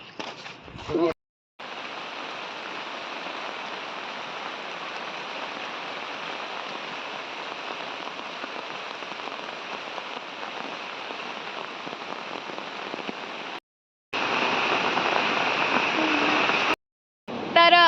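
A Konkan river running high after heavy monsoon rain, a steady, dense rushing roar that continues without a break apart from a few abrupt cuts.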